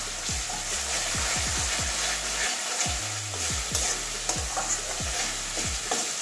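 Masala spices frying in oil while being stirred for an egg omelette curry, a steady close sizzle with repeated scraping strokes of the spoon throughout, no voices.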